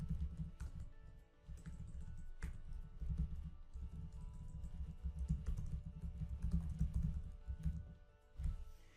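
Rapid, steady typing on a computer keyboard, with close, dense clicks running almost without pause for about nine seconds and a brief lull near the start.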